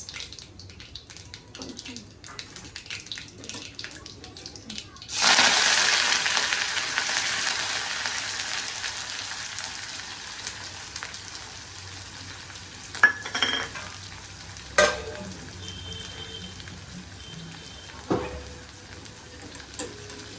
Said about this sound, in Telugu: ఇది బాగా వేగాలండి, అంటే కొంచెం బ్రౌనిష్ కలర్ రావాలి ఆనియన్స్